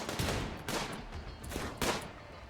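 Gunfire in the video game RimWorld: four muffled, fairly faint bursts of shots roughly evenly spaced, each a short rattling thump over a low background hum.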